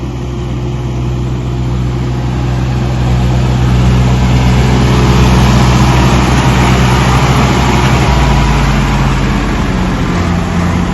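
A heavy tractor engine drones loudly and steadily nearby, a deep continuous rumble that swells slightly midway, with no talking.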